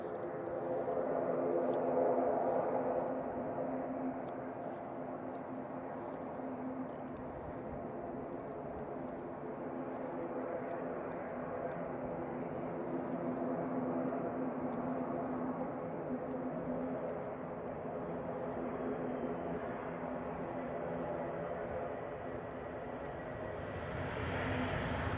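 Ryanair passenger jet arriving from Paphos at Manchester Airport, a long steady engine roar that swells slightly at the start and stays close and continuous, with a rising whine near the end.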